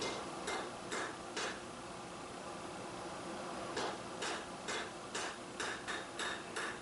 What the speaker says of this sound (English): after straightening it out, I start flattening out what will become the blade.